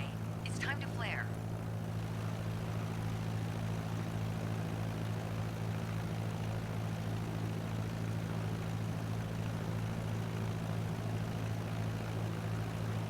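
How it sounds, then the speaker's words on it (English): A light airplane landing at idle power with flaps set in the video game Microsoft Flight Simulator 2020, a steady low engine drone and hum throughout, with a brief faint tone near the start. "And I've already set us up in landing configuration at 65 knots with 10 degrees of flaps and idle power."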